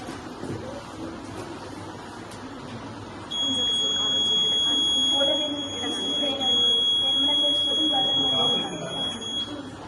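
A student lab project's alarm buzzer sounds a steady, high electronic tone that starts about a third of the way in and holds to the end, under chatter in a busy school lab.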